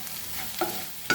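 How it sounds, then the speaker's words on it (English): Onion and tomato fry in a pan with salt and asafoetida, giving a steady soft sizzle with two quick scraping stirs of a spoon, close up and without talk. "So 1/4 teaspoon of salt and a pinch of asafoetida, and fry like this only"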